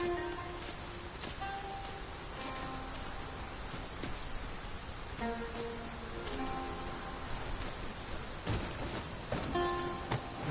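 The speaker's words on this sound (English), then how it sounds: "It started raining, Master. Let us find cover ere the water enters our boots." Steady rain falls in the fantasy game Dragon's Dogma 2, a continuous broadband patter with scattered louder drops, while soft musical or ambient tones drift in and out underneath with no speech.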